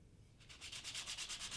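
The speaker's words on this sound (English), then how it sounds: "I usually sand it with a light sanding. I use a fine grit, 250 grit paper" Light hand sanding of a wood finish with fine 250 grit paper, a steady rhythmic rasp of even back-and-forth strokes, close and alone after a quiet start.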